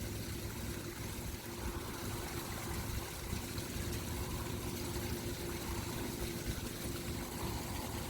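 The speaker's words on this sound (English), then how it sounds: "This little vacuum works pretty good." A small pool vacuum runs underwater while cleaning a swimming pool, giving a steady, continuous low hum with a rough, engine-like drone that holds even in level throughout, close by and without voices.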